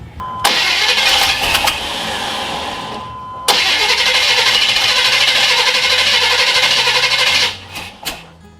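A GM OBS pickup truck engine cranking on its starter in two long bursts separated by a short pause, loud and close, with a steady whirring drone that cuts off at the end.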